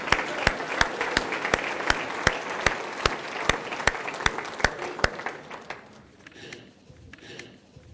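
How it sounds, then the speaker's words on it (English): Audience at a State of the City address claps in a steady, evenly spaced rhythm, loud and close, then the applause thins and fades into scattered claps and murmuring. "Let's give him a round of applause."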